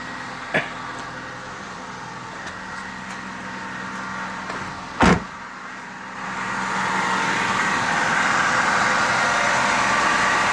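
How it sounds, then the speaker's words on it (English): A 2002 Saturn SL1 engine idling on its first cold start of the day, with a fuel pump fault. A low steady idle hum runs with a couple of sharp clicks, then the noise grows broader and louder. "So this is the first startup of the day."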